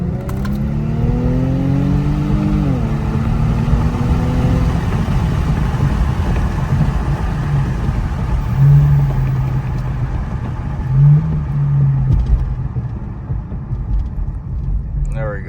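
Engine of a 2021 Infiniti Q50 in a short acceleration pull, a rising whine followed by a steady cabin drone and road rumble, with a person speaking over it.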